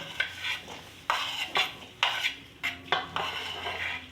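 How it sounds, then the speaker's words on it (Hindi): Dry chickpeas and dried peas tip into a bowl for chana chaat, giving several sharp rattling, clattering bursts of hard grains hitting the dish, close and fairly loud with a steady background hum. "सबसे पहले बॉल में डालेंगे चने और सूखी मटर"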